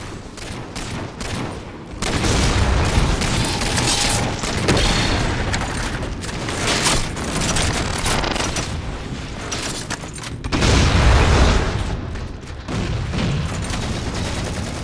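Halo 4 gunfire: bursts of rapid automatic shots and heavy booms rolling on continuously, loud and close, with mechanical clatter between volleys and no talking.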